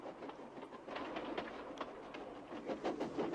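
Rolling freight train wagons give a steady, faint rumble with rhythmic clickety-clack beats, heard from a distance with no voices.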